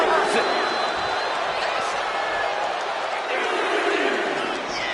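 Wrestling arena crowd at a Monday Night Raw show roars in a steady, loud wall of cheering and whooping that holds for the whole stretch, with a few louder shouts rising out of it.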